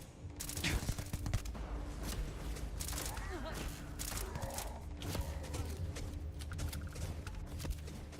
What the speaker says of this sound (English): the phantoms are shooting at me too?